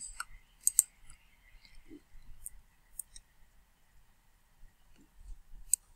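Sparse, faint mouse clicks, several single taps spread across a quiet stretch, as uploaded student work is opened on a computer, with small handling noises between them and no speech.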